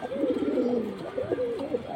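Silver pankhi pigeons, offered for sale at a pigeon market, coo steadily for the whole stretch, their soft warbling calls overlapping close by with no talk over them.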